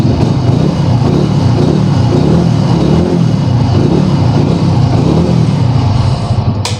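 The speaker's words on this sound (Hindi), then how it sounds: "तो साउंड से ही समझ जाता है कि कितना स्मूथ व्हीकल है, एकदम मतलब रिफाइंड इंजन समझ जाता है।" A used 2016 Honda Activa scooter engine idles close by at a shop, a loud, steady, smooth low hum that runs unbroken for several seconds with no talking.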